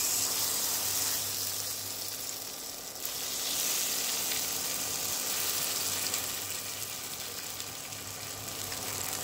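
A plantain and lentil mixture sizzles steadily as it hits hot oil in a pan, a continuous frying hiss with a slight surge partway through, close and fairly loud.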